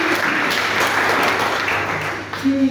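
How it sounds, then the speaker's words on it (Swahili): Church congregation clapping together in a dense, steady burst that fades slightly near the end as a voice begins. "Tupige makofi kwa sababu tunaongoza vizuri"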